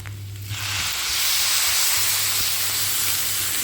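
Water hitting fried semolina in a hot pan sets off a sudden loud, close hiss of steam and sizzle that swells and keeps going steadily, with no voice.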